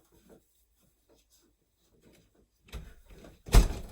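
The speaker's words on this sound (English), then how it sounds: "Heavy duty door, pretty solid. I'm going to shut." A solid, heavy-duty door is pushed closed, with faint creaks and rubbing building up before a single loud, close thud as it shuts.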